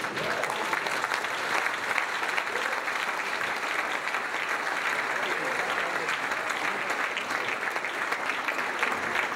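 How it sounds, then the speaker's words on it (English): A standing audience at an evening event in Houston claps loudly and continuously, a thick even wash of applause with no pauses throughout. "May we all rise again and give a resounding round of applause."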